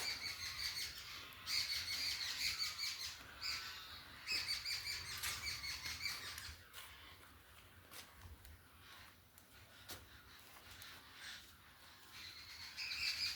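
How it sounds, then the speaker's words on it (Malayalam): A bird calls in a sunny home flower garden, repeating bright chirps and tweets in quick bursts for the whole stretch. It sounds fairly close, with soft outdoor ambience between phrases. "എന്തോ പക്ഷി കരയാനായിട്ടിട്ട് ശ്രദ്ധിക്കുന്നു."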